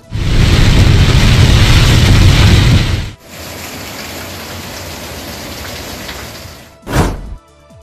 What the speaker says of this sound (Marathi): नंतर काळे कुट्ट ढग आणि त्यानंतर सायंकाळी मुसळधार पाऊस